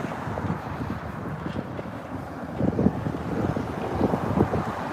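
Gusty wind buffets the microphone in a continuous low roar, swelling stronger toward the end, on a morning walk in Annapolis.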